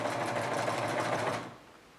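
A sewing machine stitching in reverse, controlled by a foot pedal, gives a steady close mechanical whir for about a second and a half before it winds down and stops.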